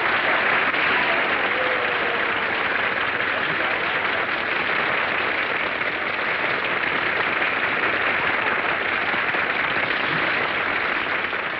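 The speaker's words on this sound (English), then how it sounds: "Now you can all applaud." Steady, dense applause from a 1946 Hollywood radio studio audience, continuous and evenly loud throughout with a muffled, band-limited quality.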